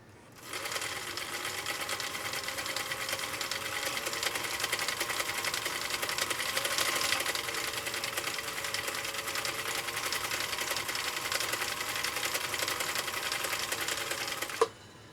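A restored Husqvarna Viking CI-21A sewing machine with a 1.5 amp motor stitches a snaky decorative pattern, running steadily and loud for about fourteen seconds with a dense mechanical whir, then stopping abruptly.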